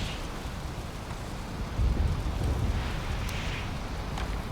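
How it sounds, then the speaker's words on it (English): Rain falls in the Norse survival game Valheim as a steady broadband hiss, with a low rumble swelling midway like distant thunder, continuous throughout with no talk. "Is the rain loud in a good way or a bad way?"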